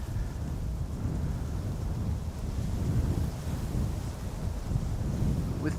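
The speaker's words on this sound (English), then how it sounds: "With the incessant wind," Incessant wind buffets the microphone at Amsterdam Schiphol airport by the Polderbaan runway, a loud, continuous low rumble with gusty surges throughout.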